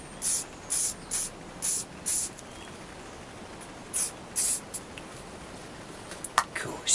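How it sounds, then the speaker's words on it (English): An aerosol can sprayed in a run of short, close hissing bursts, about seven in all, most within the first few seconds, while fitting a grip on the XJ9000S, followed by a few faint clicks. "Give it a bit of a spray."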